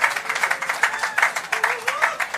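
Applause at an award ceremony honoring a singer, a thick, continuous patter of many hands with a rhythmic swell, and faint voices threaded through it.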